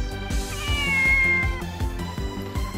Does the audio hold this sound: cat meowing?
yes